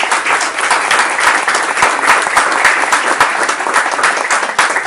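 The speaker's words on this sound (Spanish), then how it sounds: "a quien voy a pedir un fuerte aplauso" Loud, vigorous clapping from an audience at a poetry anthology reading greets a guest poet, many hands beating in a dense, continuous burst close by.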